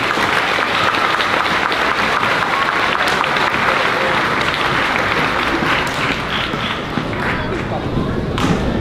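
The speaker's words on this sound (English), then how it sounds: "Let's give Ms. Mendes' class another round of applause" Applause from an audience at a fifth grade moving-up ceremony, dense steady clapping held at full level throughout and filling the hall.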